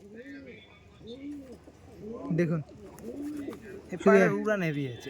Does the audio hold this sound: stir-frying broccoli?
no